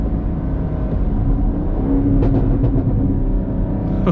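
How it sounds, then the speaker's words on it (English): A 2021 Chevrolet Camaro SS V8 exhaust burbles on a downshift, a deep low rumble with a run of rapid gurgling pops in the middle, close and steady, with no voices. "gonna back it off and get a good downshift gurgle in here."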